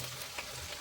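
Chopped onion, carrot and capsicum sizzling in a pan for upma, a soft, steady frying hiss with a faint stir, brief and quiet.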